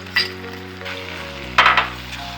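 A hot tempering of curry leaves and asafoetida hits Manila tamarind (cheema chintakaya) chutney with two sharp bursts of sizzling, close and loud, over a low steady hum, with no talking.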